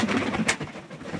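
Pigeons coo in a low, throaty burble close by, a brief soft murmuring without any voices.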